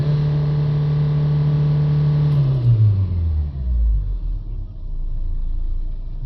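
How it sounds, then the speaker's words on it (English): A car engine, checked with a Launch X431 Pro Elite scan tool, holds a steady raised rev before dropping back down toward idle, its low hum falling in pitch over a few seconds, loud and close with no talk. "Now if I rev the speed of the engine"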